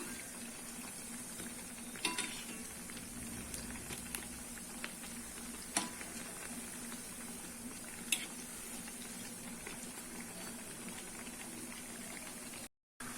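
Banana flower vada made with ration toor dal fry in hot oil over a medium flame, a faint, steady bubbling sizzle with a few soft clicks of a utensil.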